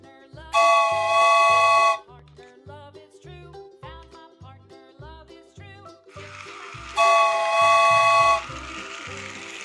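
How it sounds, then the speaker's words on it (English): A toy train whistle toots twice, loud and clear, with a pause between, over a steady bouncy rhythmic beat. "Train."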